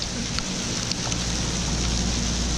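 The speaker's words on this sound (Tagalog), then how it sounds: "Enjoy the life in the rain." Steady rain falls at the Port of Polloc in Parang, Maguindanao, a constant broadband hiss with a low rumble underneath, continuous and fairly loud throughout with no talking.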